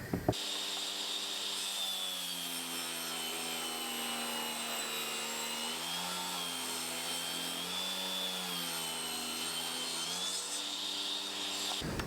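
A power saw cuts a ripped piece of timber into short pieces, a loud continuous whining drone with steady harmonics that wavers slightly in pitch as it bites through the wood, running nonstop for about twelve seconds.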